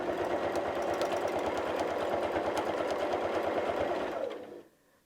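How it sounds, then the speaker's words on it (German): Domestic sewing machine free-motion quilting a square, a steady fast mechanical stitching rattle running continuously and close, then stopping abruptly near the end, leaving near silence. "Wir fangen wieder mit dem vernähten Faden an und wir quilten ein erstes Quadrat."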